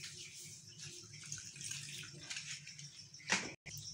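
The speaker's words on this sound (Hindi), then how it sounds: "और अब मैं इसके अंदर थोड़ा सा पानी ऐड कर रही हूँ।" Water poured into flour and sugar in a wok for Multani sohan halwa, a soft, close splashing trickle for a few seconds that ends in a brief burst before cutting off.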